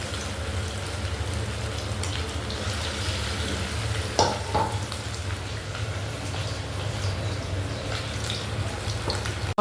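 Spice paste dropped into hot oil in a wok, a continuous crackling sizzle with a couple of brief metallic clinks partway through.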